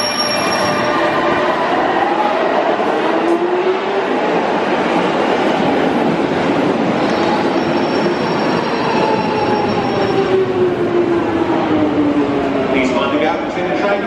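London Underground tube train at a platform on a service to Amersham, with loud steady rumbling, squealing wheels and rail noise throughout and station announcements heard over it.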